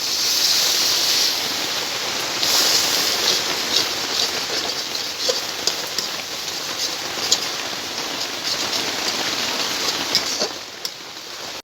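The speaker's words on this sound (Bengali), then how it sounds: "এখন মশলাটাকে আমি ভালো মতো কষিয়ে নেব।" Cumin-spiced masala frying in a pan with a splash of water, a steady close crackling sizzle with scattered pops throughout, no voices.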